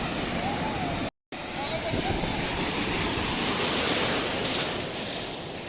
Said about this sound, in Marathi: पाहू शकता लाटा येतात मागून एकदम